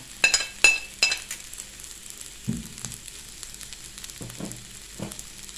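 Fresh chili peppers hitting hot oil in a pan for mackerel fried rice, giving several sharp sizzling bursts early on, followed by quieter scraping and stirring thumps against the pan, close up.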